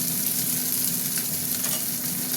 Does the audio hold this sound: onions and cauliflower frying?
yes